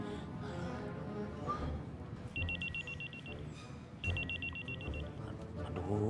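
Electronic telephone ring sounds in two repeated bursts of rapid trilling beeps, clear and mid-distance, over a busy room background with low rumble.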